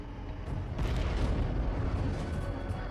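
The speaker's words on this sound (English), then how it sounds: "Okay, missile away." A Bradley fighting vehicle launches a TOW anti-tank missile, giving a heavy rushing roar that builds quickly and holds as a loud, broad blast with no talk over it.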